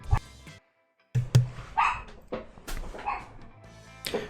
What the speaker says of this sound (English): And the dogs are barking, of course.